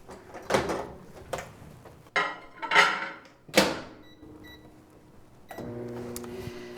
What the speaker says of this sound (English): Now we need to put it into the microwave for 55 seconds.